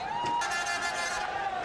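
A dense stadium crowd at a 1998 cricket match in Sharjah roars in a sustained cheer, steady and broad with no breaks, a few whistles riding on top.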